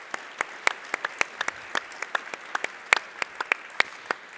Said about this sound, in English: a massive round of applause to all the presenters